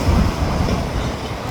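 A CPKC freight train with a pair of engines, a caboose, a tank car and box cars rumbles past at close range, a steady low, heavy roll with no voices.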